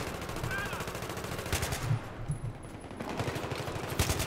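Rapid machine-gun bursts in Battlefield 3, loud close firing in fast repeating cracks that come in several volleys with brief gaps, with a voice talking over part of it.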